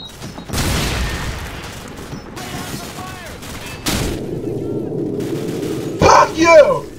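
Call of Duty 4: Modern Warfare gameplay with a grenade explosion and gunfire: sharp bursts of shots, a heavy booming blast partway through, then more rapid close firing near the end.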